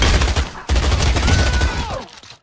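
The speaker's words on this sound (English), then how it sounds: "Whoa, they tried to shoot us!" Heavy video-game gunfire roars in dense, continuous bursts, with a brief break before it resumes loud and sustained, then thins out toward the end.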